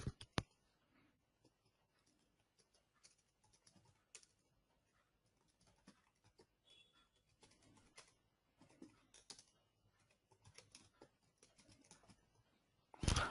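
Code is being typed on a computer keyboard in close, quiet bursts of key clicks with short pauses between runs and a sharper clatter at the very end, no talking.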